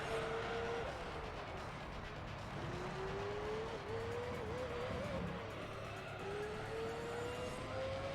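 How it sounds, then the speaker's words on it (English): Dallara Formula 3 race cars in Gran Turismo 3 whine along steadily at high revs, engine pitch climbing and dropping through gear changes, with faint tire scrubbing and no talk. "So they're Dallara Formula 3 cars then."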